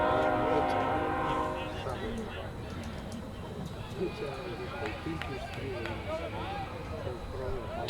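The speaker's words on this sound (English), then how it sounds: "And you may be hearing a little train here in the distance." A train horn sounds faintly in the distance at a college baseball game, fading out within the first couple of seconds, while voices continue throughout.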